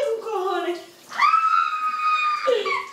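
Shower water sprays and splashes in a home bathroom, mostly hidden under excited, shrill voices shouting and talking throughout.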